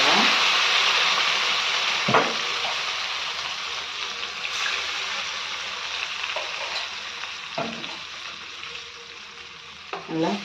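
Ground masala being stirred into avial in a pan, a steady soft sizzle broken by a few sharp scrapes and clacks of the spoon against the pan.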